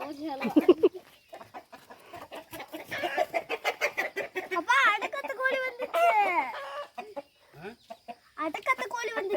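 Chickens clucking and squawking close by in a busy run of short, rapid calls, with a few louder excited cackles.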